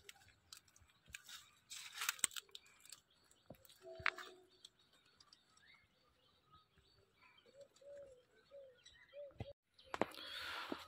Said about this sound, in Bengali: কি সুন্দর পাখিগুলোর আওয়াজ শোনা যাচ্ছে।